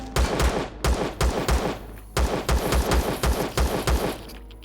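Pistol fire aimed at spiders in the video game Empyrion, heard as two rapid bursts of sharp, close, loud shots with a brief pause between them, no talking.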